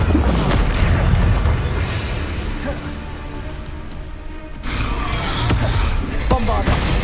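Bombarda spell blasts boom and crash in Hogwarts Legacy, with loud repeated impacts over a dense, noisy battle soundscape.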